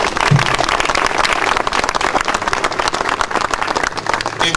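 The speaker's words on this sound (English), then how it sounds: "Give him a round of applause." An outdoor audience at a historical marker dedication ceremony breaks into loud, sustained applause, with many overlapping hand claps forming a thick, continuous roar.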